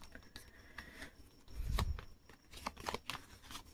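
Tarot cards are handled and drawn during a reading, giving soft, quiet flicks and slides with one fuller rustle near the middle.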